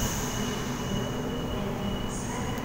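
A Sydney Waratah Series 1 electric train hums steadily at the Wynyard station platform, a continuous close drone with a faint high whine.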